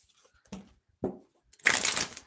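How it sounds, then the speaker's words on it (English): A deck of tarot cards shuffled in three separate bursts, close and clear, the last one longest and loudest, with no voices. "Give a couple of more shuffles here."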